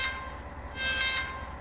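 A BR 363 V 60 diesel shunter in Deutsche Bundesbahn blue livery rolling downhill in a train simulator, a steady low engine drone with a high whine that swells briefly, with no one talking.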